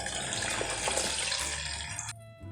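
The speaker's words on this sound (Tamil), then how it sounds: "இப்போ குழம்பு ஊற்றிடலாம்." Fish curry pours steadily into a cooking pot with a continuous gushing splash, then the flow stops abruptly near the end.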